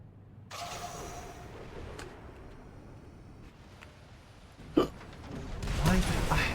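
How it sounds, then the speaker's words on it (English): Someone hiccups a few times, short sharp catches in the throat over a low game background with occasional bursts. "I don't understand why I had hiccups."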